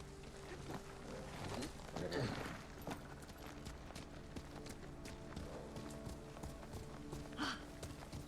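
A horse galloping in the video game Ghost of Tsushima, rhythmic hoof clip-clop running steadily under game music, with voices speaking over it.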